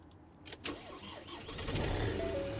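A vehicle engine cranks with a short whirring starter chirp, then catches and settles into a low running rumble that grows louder.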